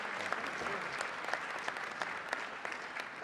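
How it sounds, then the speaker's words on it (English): Audience at a roast for Dr. Edward Benz gives a round of applause, steady dense clapping at moderate distance throughout with no talk over it. "We have to give him a better round of applause than that."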